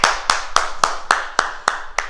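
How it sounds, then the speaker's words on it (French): A small fitness class claps in a slow, even rhythm after finishing an exercise, about eight distinct close hand claps with short gaps between them. "Et on s'applaudit"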